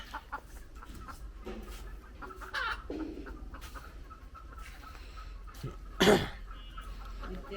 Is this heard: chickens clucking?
yes